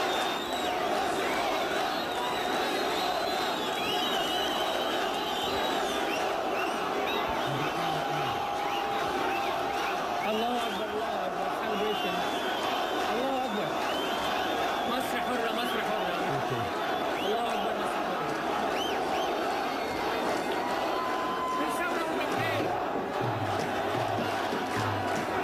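A large crowd of protesters in Cairo chants "Masr Hurra" in rhythmic unison, a dense roar of many voices with shouts rising and falling, heard steadily from a distance and broken by occasional louder cries nearby.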